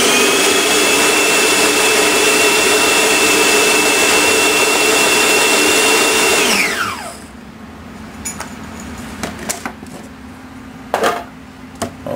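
A loud, steady motorized whir of a food processor runs for several seconds, then winds down and stops, leaving quiet clinks and handling sounds.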